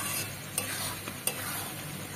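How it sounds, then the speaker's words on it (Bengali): A spoon stirs mango pickle with sugar in a pan over low heat, giving a steady, close sizzle with soft scraping strokes and a few sharper clicks against the pan. "নাড়তে নাড়তে দেখো এর যেন কালারটা এসে গেছে।"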